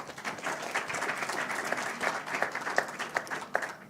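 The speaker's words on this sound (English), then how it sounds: "Maybe we can clap for our panel." Quiet, steady applause from an audience in a conference tent, clapping for a panel at the close of an annual meetings session, evenly sustained with a few sharper claps standing out.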